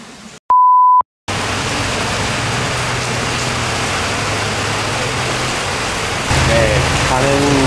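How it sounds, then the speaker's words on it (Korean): Heavy rain pouring down on Koh Samui as a loud, constant hiss, following a short electronic beep, with a low engine hum underneath and a slight swell near the end. "가는 도중에 비가 와가지고 비 흠뻑 맞고 세븐일레븐 앞에 대기하고 있습니다"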